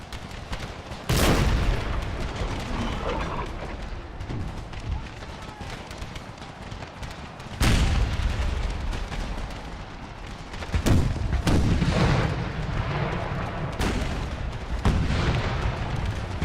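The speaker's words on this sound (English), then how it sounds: "Ooh, canister shot again, please." Canister shot artillery in a modded Empire: Total War battle booms out in several heavy, spaced volleys over a constant rumble of battlefield noise, while someone talks over it now and then.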